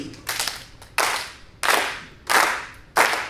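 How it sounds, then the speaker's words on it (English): An audience at a jazz performance claps along in time, a handful of sharp, separate hand claps landing at a steady pace with short silences between them and no talk. "I need y'all to clap like this."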